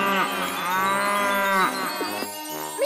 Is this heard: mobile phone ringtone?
no